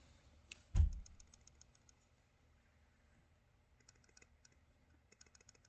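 A single sharp snap of a brand-new folding knife blade flicking open off its detent, loud and close, followed by faint light clicking in a quiet room.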